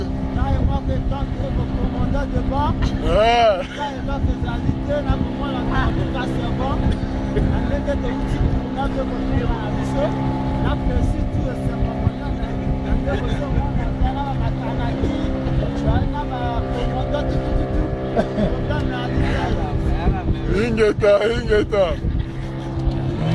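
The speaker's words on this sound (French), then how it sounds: "bino boyoki ba ndenge eleli ya moteur wana ndenge olela" A boat motor drones steadily and loudly on the Congo River, a continuous rumbling engine hum throughout with people talking over it.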